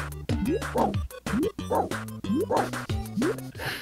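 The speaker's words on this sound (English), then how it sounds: "There's a giant dog just jumping and barking" A giant dog jumping and barking in a park, a rapid run of loud, close barks and yips in an uneven rhythm, with a voice murmuring faintly underneath.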